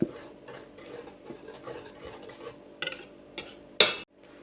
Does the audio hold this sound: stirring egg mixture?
yes